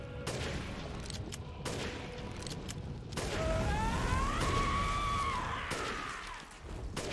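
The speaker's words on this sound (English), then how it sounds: "Nicely upgraded sniper rifle here, doing a bulk of that work." A few sharp sniper rifle shots from an upgraded rifle in Resident Evil Village cut through game noise, followed by a rising, wavering whine and a rumbling background.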